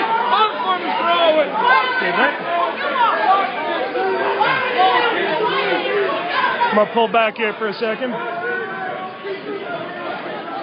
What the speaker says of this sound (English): This is the crowd outside the Oaksterdam University.